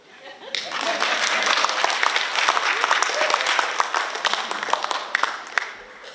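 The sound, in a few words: audience clapping at graduation ceremony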